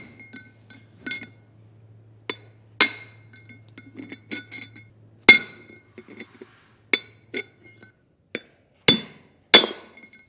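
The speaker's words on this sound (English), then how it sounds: "Get your punch to grab onto that and start hammering." Sharp metallic hammer strikes on a punch drive a Timken bearing race out of a trailer hub, landing at an uneven pace with ringing clinks. The blows are close, loud and without speech.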